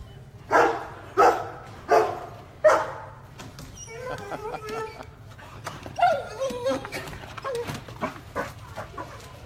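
An excited dog barks at a doggy school bus, four loud close barks in quick, even succession, followed by people chatting.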